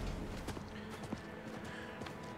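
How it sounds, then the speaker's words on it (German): Horse hooves clip-clop in the Diablo 4 video game, a quick, steady run of soft thuds under faint background sound. "Pferd."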